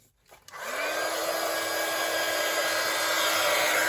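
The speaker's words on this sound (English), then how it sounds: "So a bit of gold embossing powder on there, and then we'll just heat that up" After a brief quiet moment, a craft heat tool switches on to melt gold embossing powder, then blows a steady, loud, close whooshing whir like a hair dryer.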